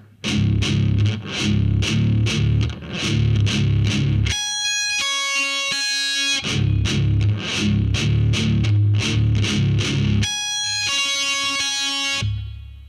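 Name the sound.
heavy metal guitar riff played slowly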